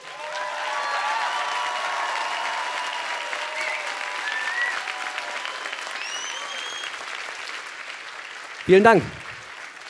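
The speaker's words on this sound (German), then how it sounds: "Wenn ihr ganz kurz einen Riesenapplaus an meine Frau schicken könntet" Audience at a German science slam applauds loudly and steadily for the speaker's wife, a dense sustained clapping that fades slightly before someone briefly speaks near the end.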